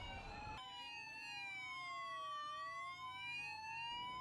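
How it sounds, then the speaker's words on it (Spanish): Emergency sirens from police, fire and ambulance vehicles in Costa Rica, several wailing tones rising and falling together, loud and steady throughout after a brief start. "Los vehículos de la policía, bomberos y ambulancias son muy comunes en el mes de septiembre en Costa Rica"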